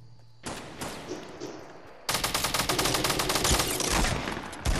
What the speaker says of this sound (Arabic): طخ عليه سيدي، طخ.